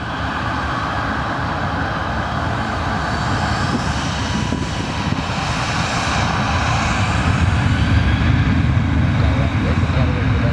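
A Ryanair Boeing 737-8AS jet takes off at Lisbon Airport, its engines producing a loud, steady broadband roar that builds slightly over the whole span, with radio chatter audible beneath.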